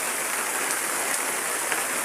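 Heavy rain pours down in a loud, unbroken hiss with a few faint drips on top, steady throughout and with no talking.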